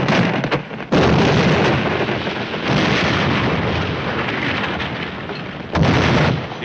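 Heavy artillery pounds in a 1951 war film about tanks, with loud, sustained booming blasts that roll into each other and renew in fresh bursts near the start and end.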